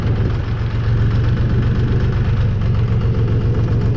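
A DTZ 5244 tractor engine runs steadily in low gear, a loud, close, continuous diesel rumble with a fast rhythmic knock and no pauses.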